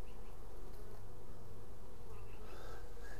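Dense, close buzzing of many honeybee drones on a hive frame fills the air continuously, a low droning hum with occasional louder wingbeats passing nearby.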